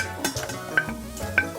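Chopped onions tossed into hot oil in a large saucepan over high heat, a brief close sizzle with scraping stir strokes and a couple of light clinks from the pan.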